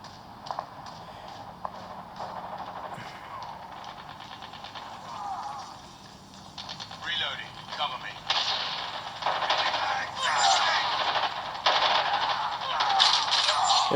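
Gunfire in a battle royale mobile game played on a realme 7i phone, bursts of rapid shots and crackling blasts building in intensity over steady game noise.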